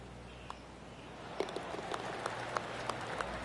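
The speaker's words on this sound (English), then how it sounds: "I can hear the golf claps around the course." Polite golf claps from spectators around the course in the video game PGA Tour 2K25, faint and scattered, sounding distant over a steady outdoor ambience.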